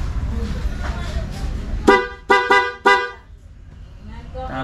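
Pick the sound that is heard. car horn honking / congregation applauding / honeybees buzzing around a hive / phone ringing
car horn honking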